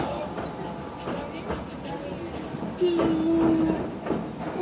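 An up-bound train on a Japanese mountain railway, heading toward Unazuki, rumbles past close by with rhythmic wheel clatter and a brief sustained squeal midway, loud and steady.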